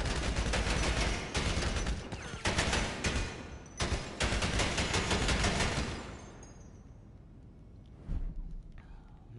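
Rapid bursts of gunfire at the bunker shooting range in GTA Online, a video game, loud and dense for several seconds before easing off, with a few scattered shots afterward.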